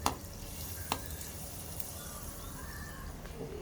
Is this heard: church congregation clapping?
no